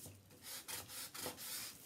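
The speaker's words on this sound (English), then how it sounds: "I'm going to fold my sandpaper so that I can get right down into this groove along the back" Folded sandpaper worked by hand along the groove of a wooden picture frame makes faint, close rasping strokes, several back-and-forth rubs in a loose rhythm with no talking.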